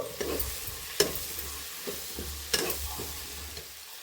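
Spices stirred in a pan of frying tomato and onion, with coriander powder just added: a spoon scrapes in several distinct strokes over a soft continuous sizzle, close and fairly quiet.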